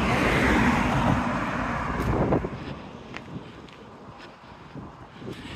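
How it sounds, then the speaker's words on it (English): Gusting wind buffets the microphone high on a hillside beside the Dawlish Road, a loud steady rush that eases after a few seconds, with faint passing-traffic hiss behind it. "you can get the winds now up here that are affecting the drone"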